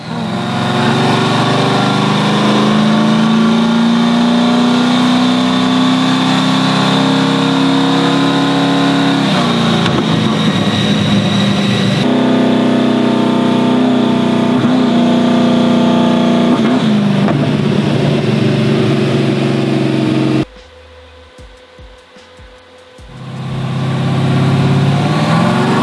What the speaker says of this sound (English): Car is on the dyno. It's doing really well.